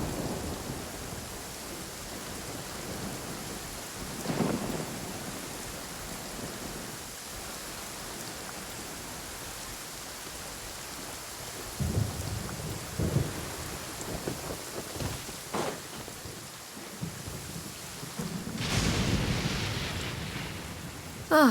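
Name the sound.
rain and thunderstorm in Genshin Impact video game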